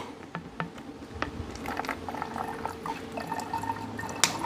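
About 800 ml of water is poured into a container, giving a faint, uneven trickle with scattered small drips and splashes at close range.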